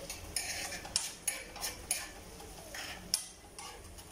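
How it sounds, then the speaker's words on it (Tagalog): Spoon stirring food in a pan with hot cooking oil, giving soft scraping and several light clinks of utensil against metal at an uneven pace over a faint sizzle. "Tapos, haluin natin."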